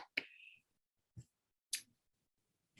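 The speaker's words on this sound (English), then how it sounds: "Snaps and claps" Finger snaps used as applause during an online professional development meeting, a few sharp clicks spaced apart, fairly faint and isolated with quiet gaps between them.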